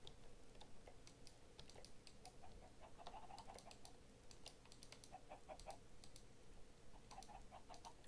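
Quick, sharp computer mouse clicks tapping in irregular bursts, close by, with faint clucking chickens and a low steady hum in the background.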